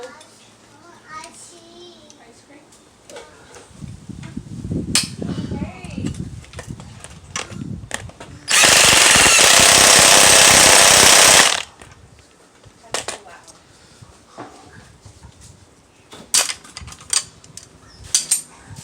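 An impact gun works on a compressed spring strut in a garage, giving one loud, steady burst of roughly three seconds amid scattered clanks and a person talking.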